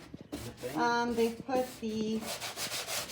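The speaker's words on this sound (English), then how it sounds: "they're painting and sanding" Doors being sanded during a home renovation, with short rubbing and scraping strokes in uneven bursts, fairly close, alongside faint tonal sounds in the background.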